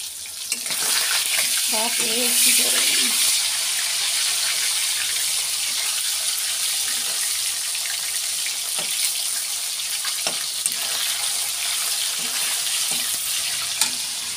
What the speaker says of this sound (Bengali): মাংসটা যখন ভাজা হোক